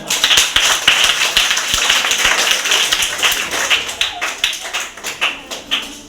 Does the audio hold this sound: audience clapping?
yes